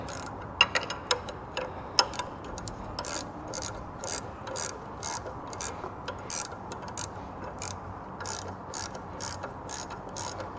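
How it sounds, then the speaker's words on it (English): A ratchet wrench tightens a bolt on a Bobcat drive belt tensioner, producing rapid, close metallic clicking in repeated bursts with short pauses between strokes. "So I will tighten this down a little bit."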